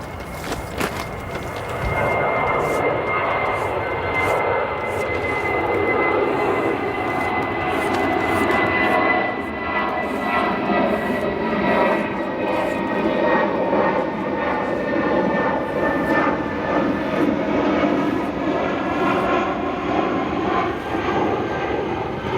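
Jet airliners take off from a runway at O'Hare Airport, a loud sustained engine roar that rises and holds, with a whining tone sweeping through it, heard from nearby outdoors for over twenty seconds.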